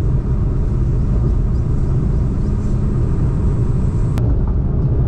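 A car drives along a rough, rain-damaged mountain road beside waterfalls, its steady low engine rumble and road noise filling the whole stretch, with one brief sharp click near the end.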